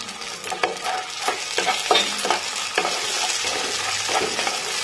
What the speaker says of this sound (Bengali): এবার দিয়ে দিচ্ছি টমেটোর টুকরোগুলো।